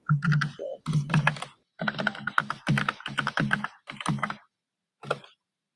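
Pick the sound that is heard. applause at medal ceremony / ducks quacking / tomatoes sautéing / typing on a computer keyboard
typing on a computer keyboard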